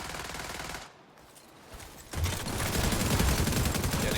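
A rogue assault turret fires sustained bursts of gunfire in The Division 2, a dense rattling stream that drops briefly and then resumes louder.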